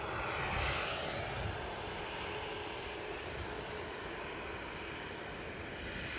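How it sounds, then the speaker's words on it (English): Ryanair airliner engines running at Newcastle International Airport, a steady broad roar heard from some distance, continuous and even throughout with no voices. "We've got Ryanair ready to go to Ibiza"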